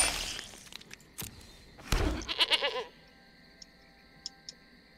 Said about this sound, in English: They get a goat. Yeah, I know, it's a funny noise